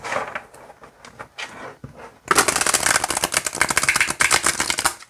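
Tarot cards being shuffled close up: a few light riffles and taps, then a quick, dense run of crisp flutters.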